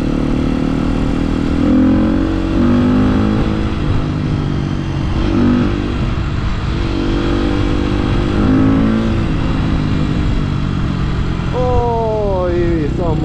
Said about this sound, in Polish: Oj, są motocykliści.